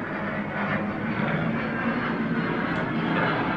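An EasyJet airliner passes overhead as a steady, low, broadband roar that stays at a fairly even level throughout.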